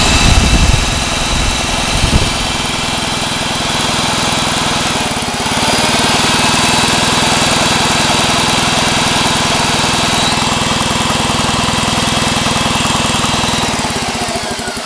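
Evinrude 6 HP outboard engine spun over by a Milwaukee drill and firing intermittently on one cylinder, a loud, steady buzzing mechanical drone that holds for most of the stretch, close and continuous with no talk.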